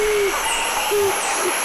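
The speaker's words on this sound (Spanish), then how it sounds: "Seguimos con Scaled Pigeon Patagionas Especiosa." A Scaled Pigeon (Patagioenas speciosa) calls in the San Cipriano forest, giving three low, hollow, drawn-out coos, the last one shortest, over a loud constant hiss of insects or flowing water.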